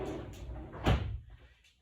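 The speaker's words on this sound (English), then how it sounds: "You close the door." An indoor door is pushed shut with a single dull thud near the middle, set against low room noise and a dog in the background.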